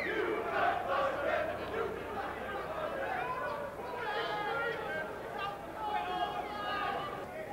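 A rugby league crowd at Craven Park, home of Hull KR, playing Chorley Lynx, fills the air with distant roaring and shouting while a commentator talks over it.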